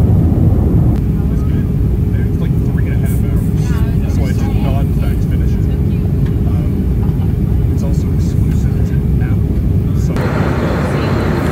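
Airplane cabin noise during the descent into Calgary International Airport, a loud, constant engine roar and rush that fills the whole stretch with no breaks.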